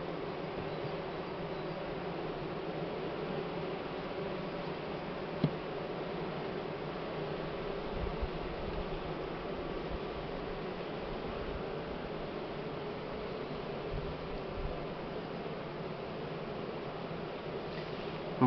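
Honeybees hum steadily around an opened hive during spring nest expansion, a dense, even buzz at moderate level throughout with an occasional faint knock.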